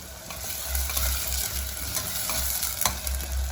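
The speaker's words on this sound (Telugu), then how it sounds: "ఉల్లిగడ్డలు వేసిన ఇట్లా కలుపుకోవాలి" Onions being stirred into a Telangana-style mutton curry, a soft sizzle under brief scraping strokes of a spoon against the pan, close and fairly quiet.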